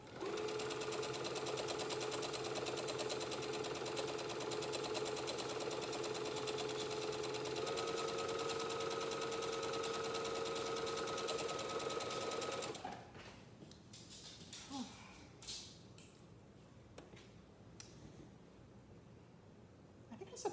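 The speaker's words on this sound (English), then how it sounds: "It's just sewing." A sewing machine runs steadily with a continuous mechanical whir and hum, shifting pitch once partway through, then stops, leaving faint room noise and small handling sounds.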